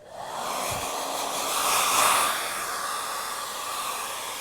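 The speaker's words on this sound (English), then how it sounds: "I'm going to just blow dry all this hair out of here" A hair dryer blows loose clippings away after a textured crop haircut, a steady close whooshing hiss that swells louder midway as the nozzle moves nearer, then eases back to a constant rush.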